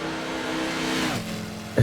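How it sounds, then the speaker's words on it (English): Race car engine in Gran Turismo during a Daytona 24-hour endurance race, droning loud and steady, then its pitch drops as the car spins out in turn one, followed by a sudden loud burst of sound. "They have spun it in turn 1."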